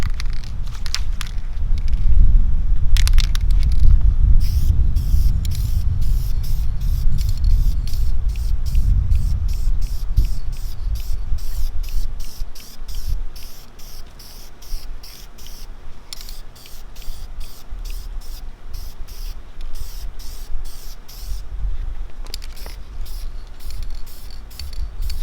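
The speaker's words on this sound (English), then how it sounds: "So now we're just gonna spray it with this now, see how it comes out." An aerosol spray can hisses continuously as paint is sprayed onto the center console armrest of a 2001 BMW M3 E46, loud and close, in long bursts with short pauses and no talking.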